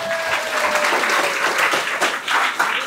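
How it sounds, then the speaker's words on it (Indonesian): Steady applause from an audience at a school seminar on local wisdom, a dense sustained wash of many hands clapping at close range with no pause. "Tepuk tangan buat kamu semua"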